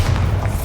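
A Bombarda explosion spell goes off in Hogwarts Legacy: a deep, sustained boom that rumbles low and loud through the whole moment.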